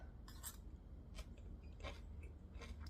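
Close, crisp crunching bites as crunchy kimchi is chewed, several distinct crunches in an irregular rhythm over a quiet background.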